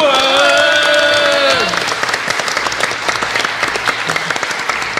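Audience applause fills a hall at a live podcast recording at PodRennes 2024, a dense, loud wash of clapping that runs steadily throughout, with a sustained voice or tone fading out early on.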